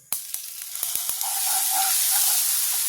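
A paste, apparently ground peas, green chili and garlic, drops into a hot pan already holding sesame seeds. A few sharp crackles quickly swell into a loud, steady, close sizzle that runs to the end, with no talking.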